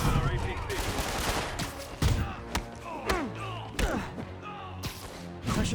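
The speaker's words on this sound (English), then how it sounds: "Demons are firing on our APC." Gunfire against an armored personnel carrier in the Spider-Man PS4 video game, bursts of shots, impacts and crashes over busy action noise, with voices speaking amid the fight.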